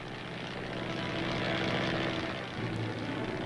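Army propeller airplanes flying over the rugged mountains of Korea, a steady, loud droning engine roar that swells slightly and holds throughout, with no voices.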